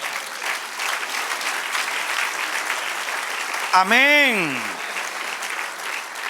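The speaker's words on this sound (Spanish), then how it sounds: "Dale otro aplauso al Señor." A church congregation applauds steadily, a broad wash of clapping that runs throughout, briefly overlapped near the middle by a single voice calling out.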